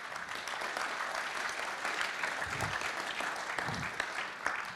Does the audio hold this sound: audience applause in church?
yes